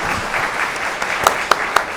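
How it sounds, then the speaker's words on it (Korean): Wedding guests applauding in a convention grand ballroom during the ceremony, a loud, dense burst of clapping with a few sharp, distinct claps near the end. "따뜻한 박수 부탁드립니다"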